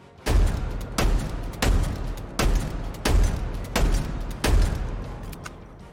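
Gunfire from a weapon in Halo Infinite, fired by repeated trigger presses: seven loud, evenly spaced shots about every 0.7 seconds, each a sharp report trailing into a short decay, alone with no talk.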